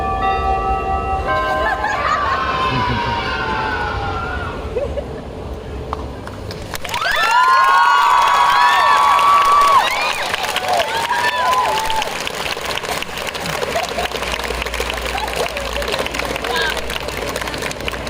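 Audience at a cosplay parade at a Bordeaux geek festival clapping and cheering, a crowd roar that swells midway, with music and voices over the noise throughout.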